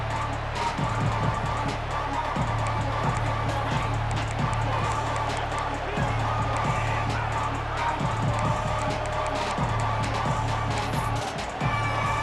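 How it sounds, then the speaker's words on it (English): A large stadium crowd in the video game EA Sports College Football 26 roars and cheers continuously, a dense wall of noise with a low rhythmic chant pulsing underneath. "this crowd is fired up. Listen to this noise here."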